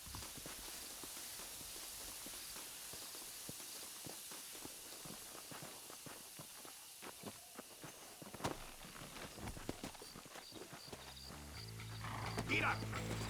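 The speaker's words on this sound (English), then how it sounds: "Come on, horses are over here." Hooves clop steadily on the ground at a brisk pace, close and fairly faint, with a voice speaking near the end, from horses in the video game Red Dead Redemption.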